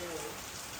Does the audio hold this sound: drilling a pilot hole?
no